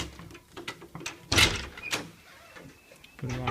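A house door opens from the great room onto a brick patio with a small arbor, giving a brief quiet latch click and slide amid faint room sound and soft background voices.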